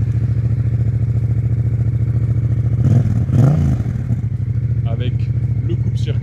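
Yamaha MT-07 motorcycle engine running loud and steady throughout, with a brief swell of revving in the middle before settling back to an even idle rumble.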